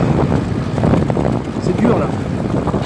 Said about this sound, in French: le vent est furibard contre nord-nord-ouest. C'est très dur.